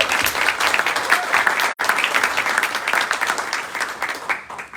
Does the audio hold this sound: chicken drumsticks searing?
no